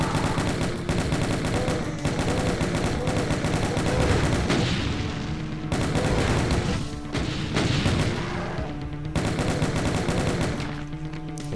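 Doom 2 TNT Evilution combat fills the stretch with repeated loud bursts of gunfire at chaingunners and a Revenant, clustered volleys separated by brief gaps, over constant game noise.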